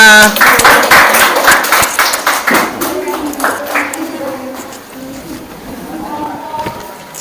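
Classroom audience claps for a presenting student group, with a loud burst of clapping at the start that fades into scattered claps while murmuring voices continue underneath.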